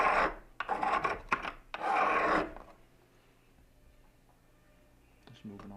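A Ka-Bar knife's serrated edge rasps in several short, close strokes against a sharpener, then falls quiet; someone talks in the pauses.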